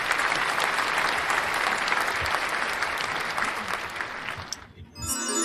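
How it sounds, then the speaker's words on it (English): A conference audience at the African Women in Games Forum gives a round of applause for Kirsten, dense sustained clapping that tapers off after a few seconds as a voice begins. "So yeah, round of applause for Kirsten."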